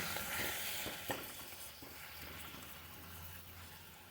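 Masala papad crisping in shallow hot oil in a kadai, a soft continuous sizzle with a few faint stirring clicks, close but fairly quiet, with no voices.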